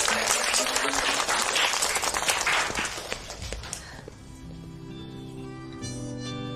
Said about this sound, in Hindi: एक बार जोरदार तालियां उसके लिए।